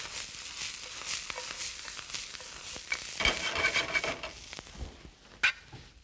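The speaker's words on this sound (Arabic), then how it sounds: "وأحط مكان التسوية الخضار اللي أنا بحمره" Vegetables frying in a pan with a steady sizzle, punctuated by stirring scrapes and occasional clanks of a utensil against cookware, close up with no voices.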